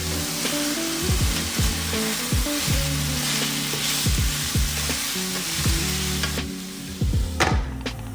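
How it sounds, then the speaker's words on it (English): Cherry tomatoes with chilies and garlic sizzle steadily in a covered pan, a constant close frying hiss with faint clicks and knocks of cookware. "Then we cover it with a lid and let them cook for a few minutes."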